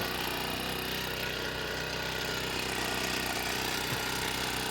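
A spray pump engine runs steadily out in a field after starting, a continuous mid-pitched drone with an even throb and no pauses.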